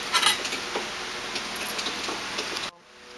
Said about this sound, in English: Now please give it a good mix.